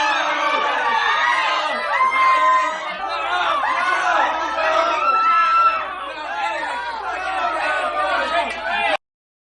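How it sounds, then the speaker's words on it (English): Crowd noise at a Halloween parade in a video game: a dense, steady mass of many voices chattering and calling out near and loud, with scattered excited shouts and some laughter, a restless crowd starting to panic. "a mysterious fog came out of nowhere, causing the crowd to go into a state of panic"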